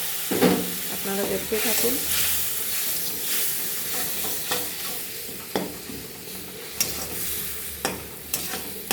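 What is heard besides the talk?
spices with turmeric and chili frying after water is added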